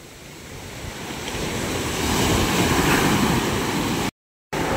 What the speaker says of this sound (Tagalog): Talaga nang pahirapan na kalang pagtabi at ang lalaki ng alon